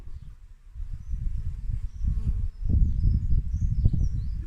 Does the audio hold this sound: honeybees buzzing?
yes